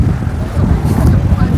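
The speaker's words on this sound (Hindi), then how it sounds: "और हवा चल रही है बहुत ठंडी बढ़िया" Cold wind blowing by the sea at Tanah Lot temple in Bali, a loud steady low rumbling roar buffeting the microphone throughout, with no clear talk.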